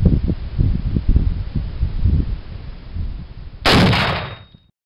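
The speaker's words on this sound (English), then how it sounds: "It's my first time shooting the Tannerite exploding target" A rifle shot hitting a Tannerite exploding target outdoors, a single loud broadband blast near the end that fades over about a second, following low rustling and handling noises.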